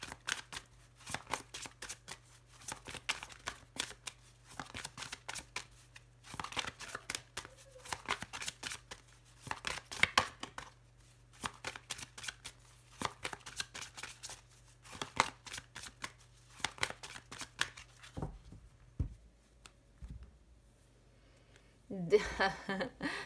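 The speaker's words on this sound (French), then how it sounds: "je vais reprendre mon jeu. On va faire une petite coupe sentimentale." Tarot cards being shuffled by hand again and again, crisp riffling bursts with brief pauses between them, then the deck is cut near the end with a few soft taps. No voices are heard.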